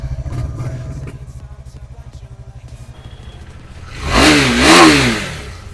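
A second-hand sports motorcycle engine idles with a fast, steady throb, then revs up sharply twice near the end before settling back, close and loud.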